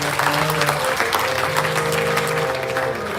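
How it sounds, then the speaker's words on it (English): An outdoor crowd at the Ramayan in the Park gathering at Jalaram Mandir, Orlando, claps steadily for the presiding Panditji, a sustained burst of applause over a faint, steady hum. "Let's give him a round of applause."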